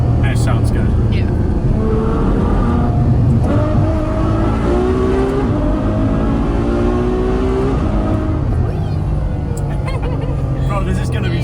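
An engine pulls hard through rising and falling gears in a supercar with four more cylinders than a Ferrari Speciale, running on a stock exhaust during a drifting outing. It sounds loud and close, with steady revving that swells and drops throughout while people talk over it.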